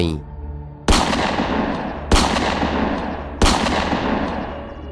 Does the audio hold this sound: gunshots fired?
yes